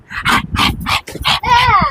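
Students in a classroom punishment imitate barking dogs with their voices, giving a rapid run of loud, close yapping barks that ends in a drawn-out whining howl.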